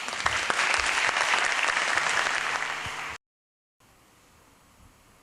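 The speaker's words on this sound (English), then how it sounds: "A round of applause." Dense, steady applause from a large audience fills the first three seconds, then cuts off abruptly into silence and faint background noise.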